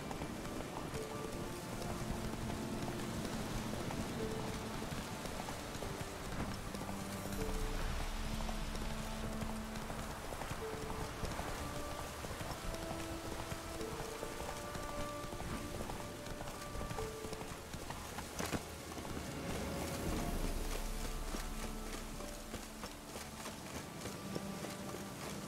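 Horse hooves clip-clopping at a steady rhythm in The Witcher 3, under a constant bed of ambient game music and a rain-like hiss, moderately loud and continuous, with no talking.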